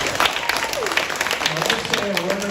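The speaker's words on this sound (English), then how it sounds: "Big round of applause for everybody." An audience at a livestreamed event applauds the announced winners, a steady round of clapping with voices talking over it.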